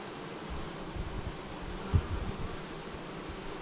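Honeybees buzzing around a hive during early sunflower bloom, a faint steady drone close by with one brief louder pass, no voices.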